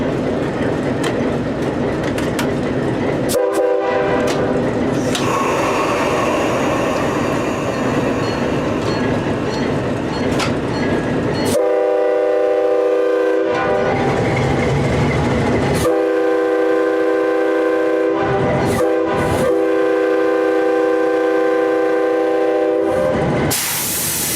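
A CPR RS3 diesel locomotive on the Alberni Pacific Railway near the Port Alberni station rumbles loud and close, its horn blaring in long repeated blasts over a steady engine drone and wheel noise.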